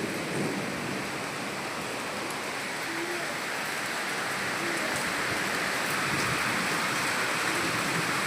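A downpour at midday keeps up a thick, continuous roar of rain on nearby surfaces, steady and loud throughout and free of talk.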